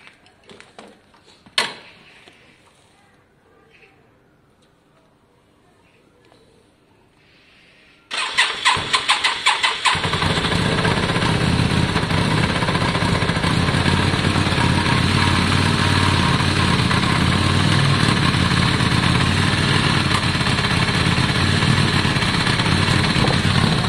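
A Yamaha Virago motorcycle engine with the choke on cranks and fires after a few faint clicks and knocks, then settles into a loud, steady, close idle that runs continuously to the end.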